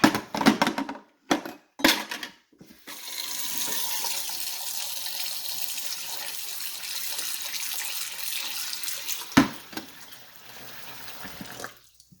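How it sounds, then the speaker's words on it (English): Cold tap water runs into a sink over metal canning lids, a soft steady splashing stream that starts after a few sharp clanks and knocks, then continues fairly quietly before stopping near the end. "We're actually going to run cold water over these after we dump out the hot water."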